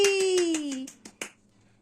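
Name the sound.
clapping after birthday song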